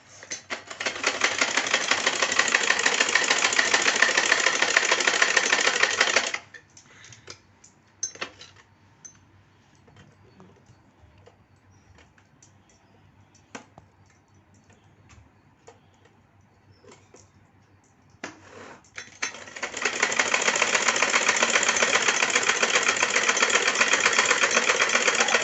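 A sewing machine double-stitches cotton cloth, running in two long, steady rapid bursts separated by a quiet pause with faint handling clicks.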